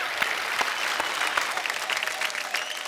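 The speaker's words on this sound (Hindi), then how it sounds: "अन्ना के लिए जोरदार तालियां हो जाए एक बार" A studio audience at a Hindi comedy talk show bursts into steady, dense applause, many hands clapping continuously at a moderate level with a faint crowd murmur beneath.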